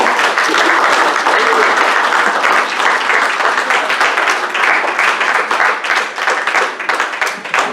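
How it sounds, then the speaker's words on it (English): A church congregation claps during an evening service, loud sustained applause with cheering mixed in, holding steady and easing slightly near the end. "Why don't we give God a clap offering tonight?"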